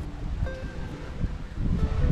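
Wind blows outdoors in a low, gusty rumble with light rustling, swelling and easing over a couple of seconds.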